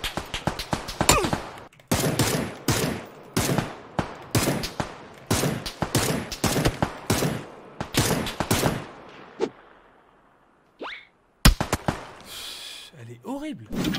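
Rapid bursts of automatic gunfire from a weapon in the video game PUBG, loud and close, repeating in quick volleys with short gaps, then a brief pause before a final shot or two; breathing and voice sounds mix in.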